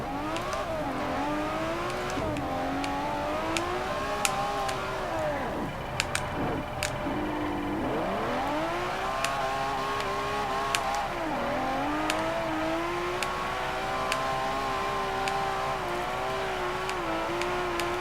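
Sesto Elemento drifting in the Forza 4 racing game, its engine loud and close, rising and dipping through repeated revs and gear changes across the turns, with occasional clicks and no voices.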